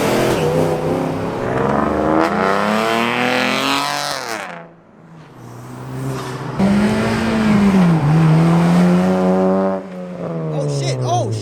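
Car engine revving hard at a busy car meet, loud sustained roars rising and falling with a brief drop midway, crowd voices shouting over it.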